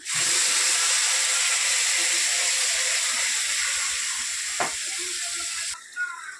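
A chili, garlic and onion paste hits hot oil in a wok, giving a loud, steady sizzle and hiss that holds for several seconds before cutting off near the end.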